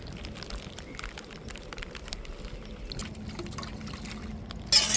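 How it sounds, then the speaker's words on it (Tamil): Running water splashes and trickles while metal dishes clink and clatter faintly, a steady wet wash with a louder splash near the end. "இப்போ பாத்திரத்தப்பெல்லாம் கழுவிக்கிட்டு இருக்கேன்"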